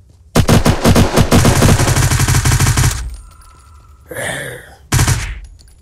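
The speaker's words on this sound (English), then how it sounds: "He's shooting me!" Loud, dense bursts of automatic gunfire from an enemy player in the online shooter Polaris ZER0, rapid sustained volleys broken by a short pause, then a final burst, with game effects between them.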